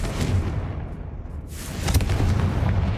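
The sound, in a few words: Confringo spell explosion, Hogwarts Legacy video game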